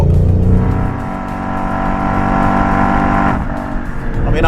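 A 2019 Ford Mustang Bullitt's V8 engine drones loud and close while driving a mountain road on the Isle of Man, a steady rich growl that shifts pitch as it pulls through the gears.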